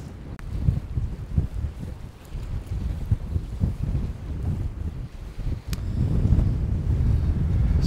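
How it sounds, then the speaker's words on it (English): Gusty wind buffeting a microphone at a wharf in Avondale, a continuous low rumbling roar that swells and eases, with faint water and boat sounds beneath and no voices. "I think it's too windy."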